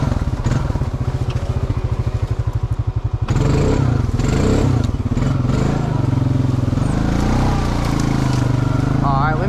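A truck engine labors uphill in two-wheel drive, a loud close rattling chug that shifts to a rougher roaring growl with clattering and jolts partway through.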